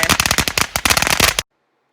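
Fireworks burst in a dense, rapid crackling volley, loud and close like firecrackers, cutting off abruptly into silence.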